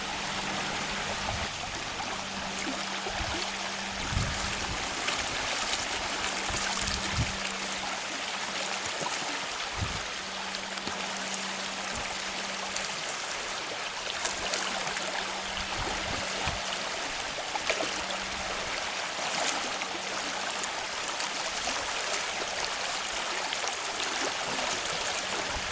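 Fast river rapids on the Russell River rush steadily and loudly throughout, a continuous broad hiss of churning water with no pauses.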